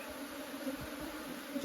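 Honey bees humming around an opened brood hive on a strong nine-frame colony, a steady close buzz with individual bees droning past, fairly soft.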